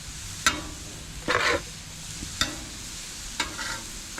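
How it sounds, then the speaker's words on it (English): Burgers sizzle softly on a hot grill, with a few sharp scraping clinks of a utensil at intervals over the low crackle. "Burgers are down and you can hear the sizzle."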